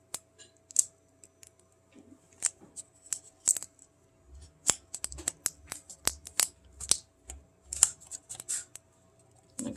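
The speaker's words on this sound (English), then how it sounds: "I'm going to tape that side down." Tape being pulled and pressed onto a homemade walking-chicken rubber band toy, giving a run of sharp, close ticks and crackles in irregular bursts, with soft low thumps from handling in the quieter middle stretch.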